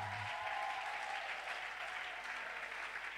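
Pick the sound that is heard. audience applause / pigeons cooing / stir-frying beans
audience applause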